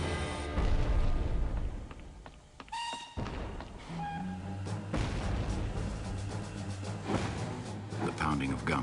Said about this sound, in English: The pounding of guns from the common grew louder.